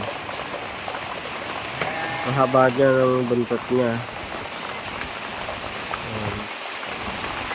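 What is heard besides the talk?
rain falling on heated pool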